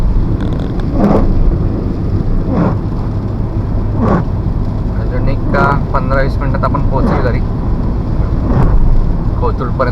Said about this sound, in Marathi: बराच पाऊस पडायला लागला इकडे